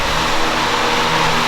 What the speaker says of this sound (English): I feel like it revs way better than it did